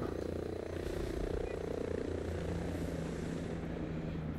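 Helicopter rotor and engine drone in the military shooter video game Ghost Recon Breakpoint, a steady low thrum that runs loud and constant through the whole stretch.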